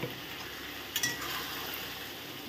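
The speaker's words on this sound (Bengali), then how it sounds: "এখন নেড়ে নেব।" Poppy seed paste and ridge gourd are stirred in a pan: soft, steady scraping over a low sizzle, with a single light clink of a utensil partway through, quiet and close.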